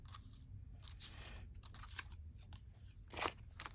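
Scissors snip through sparkly craft paper close by, several short crisp cuts in irregular bursts with rustling between them, quiet and with no voices.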